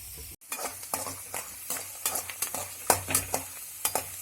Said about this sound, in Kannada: ಎಣ್ಣೆ ಕಾದ ನಂತರ ಅರ್ಧ ಬಟ್ಲಿನಷ್ಟು ಶೇಂಗಾವನ್ನ ಎಣ್ಣೆಯಲ್ಲಿ ಚೆನ್ನಾಗಿ ಹುರ್ಕೋಬೇಕು.